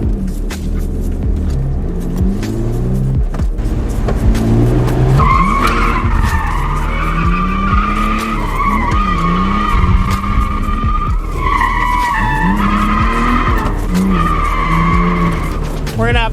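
A BMW Z3 drift car skids hard, with loud sustained tire squeal over a revving engine, pitch rising and falling through repeated slides, close and continuous throughout.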